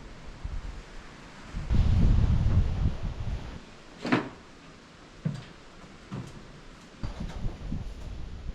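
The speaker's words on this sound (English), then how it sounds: "The wind is horrendous today." Strong wind buffets a solo container home build site, rising into a loud gusty roar for a couple of seconds, then easing into lower rumbling, with a few short knocks and rattles scattered through it.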